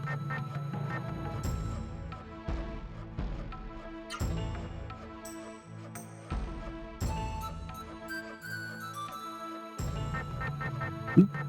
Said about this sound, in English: that's the sound of me trying to open the menu